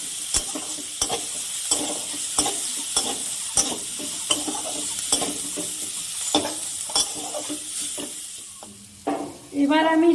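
Food with turmeric powder and salt fries lightly in a pan, a soft steady sizzle broken by regular scraping stirs of a spatula, with a louder burst of sizzling near the end.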